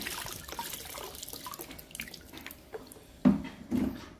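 Tap water runs in a steady, fairly faint stream as a wilted pepper plant is rinsed, with two louder splashing bursts near the end.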